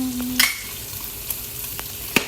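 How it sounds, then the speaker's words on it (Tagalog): Garlic frying in butter while being stirred: scattered scrapes and clinks of a utensil against the pan, with a steady low sizzle throughout, close and moderately loud. "Ihalo-halo mo hanggang mag-brown."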